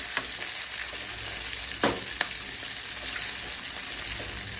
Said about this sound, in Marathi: मस्त फ्राय होते